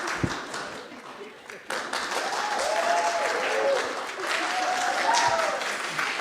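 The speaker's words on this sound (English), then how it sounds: "Clap for them." An audience at an agricultural finance learning event breaks into sustained applause, a dense, loud patter of many hands clapping that swells after a brief lull, with voices mixed in.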